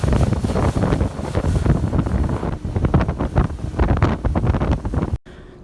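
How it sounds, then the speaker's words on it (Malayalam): A small fishing boat races through large and small waves at high speed. Continuous roaring wind buffets the microphone over the rushing water, then the sound cuts off abruptly near the end. "ചെറുതും വലുതുമായ തിരമാലകളെ ഭേദിച്ചുകൊണ്ട് ഈ കുഞ്ഞൻ ബോട്ട് 90-100 സ്പീഡിൽ പാഞ്ഞു"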